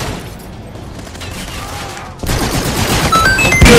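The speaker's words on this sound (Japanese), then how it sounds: "なんだか味方さんがショットガンで暴れてるね。" Gunfire in the video game Call of Duty: Infinite Warfare, a soft ambient stretch then a burst of rapid, rattling shots that continue densely and grow louder toward the end.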